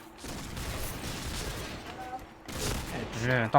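Rapid bursts of M4A1 assault rifle fire in the online shooter Point Blank, dense and continuous for a couple of seconds, a brief lull, then another sustained volley ending with a sharp mechanical click.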